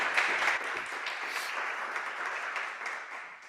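Audience applause at a Spanish business talk, a moderate steady patter of many hands clapping in a hall, holding fairly even throughout before easing slightly at the close.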